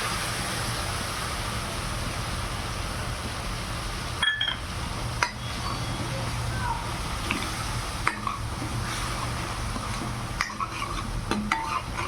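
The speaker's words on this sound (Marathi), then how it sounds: "सर्व मसाले छान तेलामध्ये परतू द्यायचे आपल्याला 2-3 मिनिटे" Spices soaked in milk sautéing in oil over an onion-tomato paste for a paneer gravy, with a soft continuous sizzle and occasional faint clicks of a utensil against the pan.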